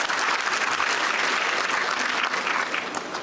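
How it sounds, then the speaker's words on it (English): Steady applause from an audience at the KCB WRC 2024 launch event fills the room, dense and continuous, close and fairly loud. "Allow me to take this opportunity to clap for both of you."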